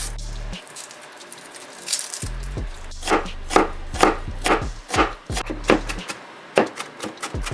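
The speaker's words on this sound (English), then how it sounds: "we're gonna go ahead and peel and chop a bunch of garlic" A knife chops peeled garlic on a cutting board in quick, irregular bursts of crisp taps, loud and close, separated by brief pauses.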